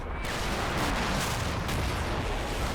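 Artillery fire in the WWII video game Combat Mission: Battle for Normandy, a continuous, loud, rumbling barrage of blasts and booms filling the whole stretch with no voices.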